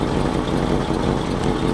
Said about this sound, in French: Ce moteur, eh bien, voilà maintenant, hein, on l'entend tourner au ralenti